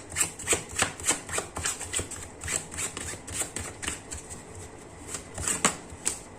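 Tarot cards being shuffled by hand close up, a quick run of crisp riffling flicks and soft slaps repeating in an uneven rhythm, heard alone without talk.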